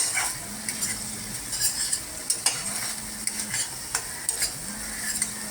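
Spice paste fries in oil in a pan for a shrimp dish, a steady soft sizzle with repeated scraping strokes of a spatula stirring at an even rhythm and light metallic clinks, close by with no talk.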